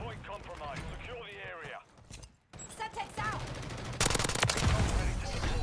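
Automatic fire from a TR-76 Geist rifle in Modern Warfare 3 rattles in dense, loud bursts, heaviest toward the end, after a stretch where someone talks over quieter game sounds.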